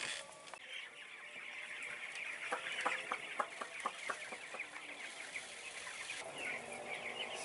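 Eighteen-day-old broiler chickens, each around 1 kg, cluck and peep in a farm coop, a dense continuous chorus of overlapping calls at steady moderate loudness with no talking.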